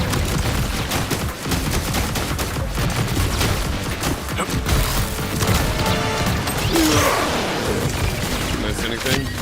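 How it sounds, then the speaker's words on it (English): Crush bombs launching a flurry of targeted rockets in the video game Contra Operation Galuga, heard as dense, continuous rapid blasts, booms and mechanical clatter, loud and busy throughout. "Overloading the crush bombs launches a flurry of targeted"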